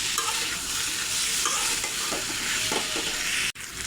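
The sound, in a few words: stirring vegetables with spices in a frying pan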